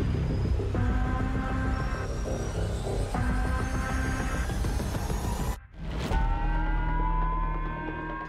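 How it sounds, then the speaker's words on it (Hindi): Warning siren sounding across Hokkaido, Japan, a loud sustained wailing tone with layered pitches that drops out briefly, then resumes with a rising sweep. "जापान के होक्काइडो में सायरन बजने लगा है।"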